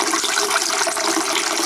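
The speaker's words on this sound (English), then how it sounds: "Just let the sink fully fill up" Tap water runs steadily into a filling sink, a dense, constant rushing splash that stays even and close throughout with no other sounds.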